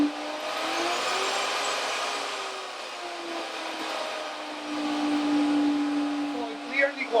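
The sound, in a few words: router motor slowing down on a variable speed control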